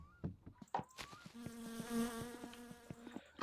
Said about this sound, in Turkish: Bakın vızıltılar başladı bile.